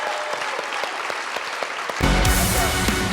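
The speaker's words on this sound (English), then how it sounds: "first off, a big applause to Pascal Spalter" Applause for a wrestler starts as a few scattered claps, then swells into loud, dense clapping from a crowd after about two seconds.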